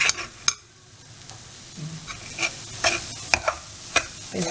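Grated coconut for laddu is stir-fried in a pan, giving a soft low sizzle punctuated by repeated sharp spatula scrapes and taps in an uneven rhythm, close and fairly quiet.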